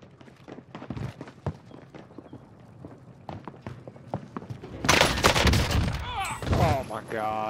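Video game gunfire in Call of Duty Warzone on Rebirth Island: scattered single shots, then a loud rapid burst from a RAM-7 rifle near the end, mixed with footsteps and a talking player.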